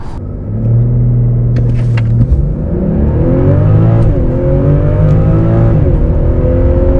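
A BMW 540i performance sedan accelerates hard from a standstill, its engine loud and close, climbing steadily in pitch with brief dips at the gear changes before rising again.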